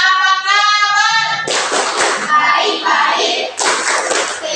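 Schoolchildren in an Indonesian primary classroom do a clapping chant: a sustained sung voice first, then loud group clapping mixed with children's chanting voices, close and continuous.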